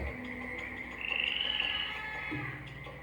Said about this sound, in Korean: 두 번째로 하나님은 개구리를 보내셨어요.